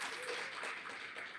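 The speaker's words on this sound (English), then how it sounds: "Big round of applause to them." A crowd applauds at a lecture-series event in Houston celebrating Hispanic Heritage Month, a brief burst of steady, dense clapping heard alone.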